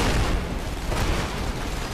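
Explosion in The Expendables 2 video game, a dense, noisy blast rumbling loud for nearly two seconds with no speech.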